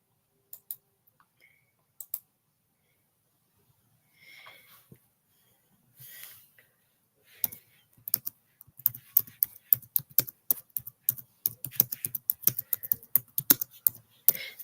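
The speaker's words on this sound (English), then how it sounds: "Sorry for the typing" Typing on a computer keyboard: a few isolated key clicks, then after a pause a fast burst of closely spaced, crisp keystrokes, loud and close to the microphone with no voices over them.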